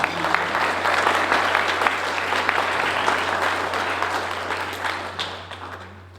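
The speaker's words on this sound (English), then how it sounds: "We should get a round of applause for that one." Audience applause at an ACC Celebration of Excellence event, a steady wash of many hands clapping, moderately loud and fading slightly toward the end, with a low steady hum beneath.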